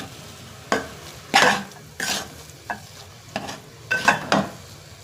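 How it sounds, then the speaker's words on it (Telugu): Coconut and jaggery being stirred and fried in a pan for a festive sweet filling, with a spatula scraping in repeated strokes about once a second over a soft, steady sizzle; close and fairly loud, no talking. "కొబ్బరి బాగా ఫ్రై అయ్యే వరకు మనం ఇలా మనం తిప్పుకుంటూ ఉండాలి"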